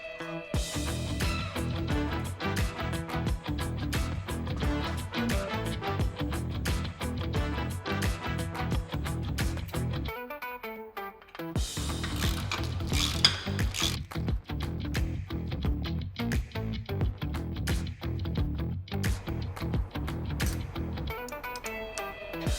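A 19 mm wrench turns as the bow stop on a boat trailer is tightened, giving dense, rapid metallic clicking that runs almost without a break and pauses once briefly, with nobody speaking.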